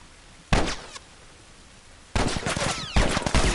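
Mounted turret machine-gun fire in The Last of Us Part 1: a short half-second burst of rapid, loud shots, a pause, then a longer sustained stream of automatic fire with a brief surge near the end, with no voices.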